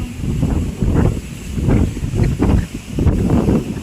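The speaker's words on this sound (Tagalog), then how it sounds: "Masyadong hangin." Strong northeast monsoon wind in the Philippines buffets the microphone in repeated gusty surges, loud and close, with a rough low roar rising and falling about every half second and no voices.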